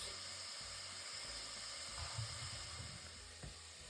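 A low, steady hiss of onions sautéing in a pan, faint and continuous, with an occasional soft knock of a utensil.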